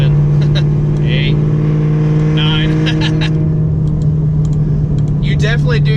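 A 2015 Chevrolet Camaro SS with an Eaton TrueTrac differential holds a steady, loud engine drone under constant throttle, with someone talking over it throughout.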